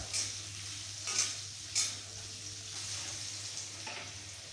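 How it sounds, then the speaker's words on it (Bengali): Potatoes frying in oil in a wok are stirred now and then, giving a steady soft sizzle with a few brief scraping clatters of the spatula, close and fairly quiet, with no voices. "তেলটা দিয়ে আলুটা ভেজে নেব।"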